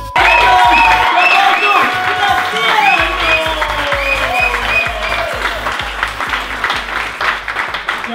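A comedy club audience claps and cheers loudly, with whoops and shouts over steady applause that fades slightly toward the end.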